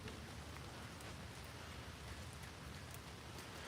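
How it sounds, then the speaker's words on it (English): Steady rain falling outdoors in Ontario, a soft continuous patter of drops on surfaces, even and fairly faint throughout with no voices. "It's raining"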